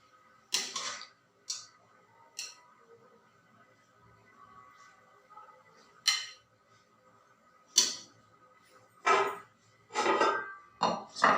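Cooked rice being spooned onto a plate for serving alongside aloo baingan, a series of sharp, separate clinks and taps of the spoon against the plate with quiet gaps between them.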